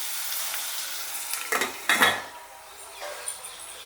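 Chopped onions frying in a pan for an egg masala give a steady sizzle, broken by a few louder stirring scrapes in the middle before settling back to an even hiss.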